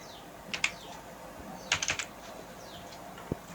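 Light computer keyboard typing comes in short clusters of clicks, a couple of keystrokes, a quick run of several, then a lone tap, over a faint steady background hum.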